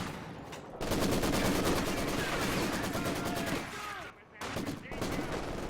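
Loud, sustained rapid gunfire with a few heavier booms in a strategy video game battle against a Panzer IV tank, continuous for several seconds with a brief lull near the end.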